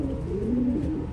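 Pigeons coo in a cold loft being readied for breeding pairs, a loud, close, low rolling coo that swells and wavers for over a second.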